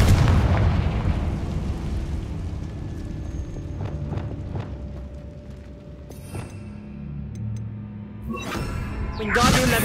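Confringo blasting spells explode in the Hogwarts Legacy video game: a heavy rumbling blast opens, a few sharp cracks and impacts follow mid-scene, then a loud burst of explosions closes it, with game sounds underneath.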